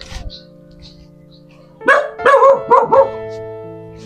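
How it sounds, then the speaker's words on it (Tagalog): A dog barks several times in quick succession, close and loud, after a short quiet stretch with faint background sounds. "Aso."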